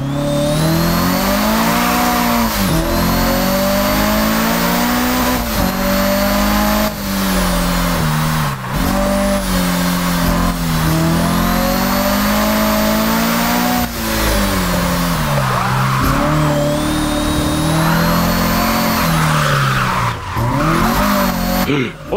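A Toyota AE86 being prepared for time attack drifts on track, its engine revving hard in rising and falling sweeps while tires squeal in long continuous screeches, loud and close throughout.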